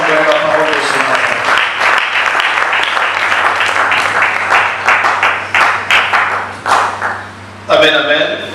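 Church congregation at a Sunday morning service in Bandal applauds and cheers to welcome a preacher, a dense loud wash of clapping and voices that thins toward the end before a brief burst of singing or a shout.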